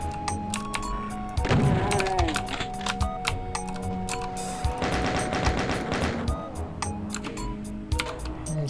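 Rapid gunfire bursts in Doom crackle amid sharp clicky game sounds, with a loud volley early and another dense burst midway, scattered single shots between and no talking.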